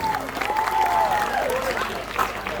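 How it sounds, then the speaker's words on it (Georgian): Warm audience applause at a Georgian sports awards ceremony honouring an athlete bound for the Sambo World Championship in Jakarta, a steady wash of clapping with a voice speaking over it. "თქვენი მხურვალე აპლოდისმენტებით"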